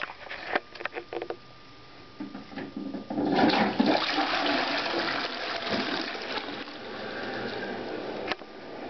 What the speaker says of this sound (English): Today we're going to find out which way a toilet flushes in Australia.